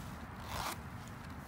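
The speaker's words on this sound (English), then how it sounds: "And the zipper, which goes all the way down." Zipper of a thick-material tactical Christmas stocking pulled in one quick stroke, a short close rasp that swells then stops in a quiet room.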